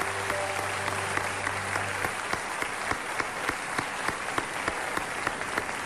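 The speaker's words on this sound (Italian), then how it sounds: "al quale farei un applauso" An audience at the Sanremo festival applauds in a sustained, dense roar of clapping. A low musical tone fades out in the first couple of seconds, then the clapping continues alone and steady.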